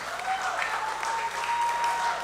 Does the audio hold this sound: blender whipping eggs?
no